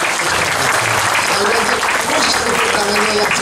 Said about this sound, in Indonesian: Sekali lagi, push tepuk tangan ini penting ini.